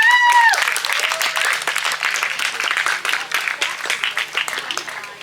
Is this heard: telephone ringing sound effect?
no